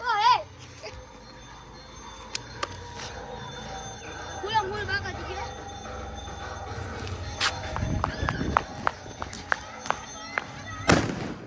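Firecrackers burst outdoors with a few sharp, loud bangs, mostly near the end. Voices, including children, talk throughout, and footsteps move around close by.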